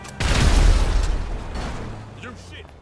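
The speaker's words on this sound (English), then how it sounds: "Citizens report a vehicle explosion on Crusade Road" A vehicle explodes on Crusade Road in Strawberry in Grand Theft Auto V. A loud close boom erupts near the start and fades into a rumbling, crackling tail, with a voice speaking faintly underneath.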